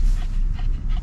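A dog whimpers and pants close by, quick rhythmic breaths mixed with short high whines repeating several times in about a second.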